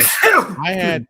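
A single sharp sneeze close up, a quick breathy burst followed by a voiced tail, loud and brief.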